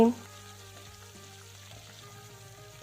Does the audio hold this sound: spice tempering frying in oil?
yes